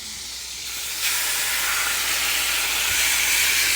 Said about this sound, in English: let's drop the butter, because we about to drop the steak